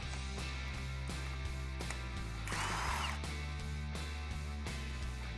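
A ratchet works a 10 mm bolt loose on the front suspension of a 2014–2018 Silverado during a leveling kit install, giving fast repeated clicking passes, close and steady, with a brief metallic scrape midway and no talking.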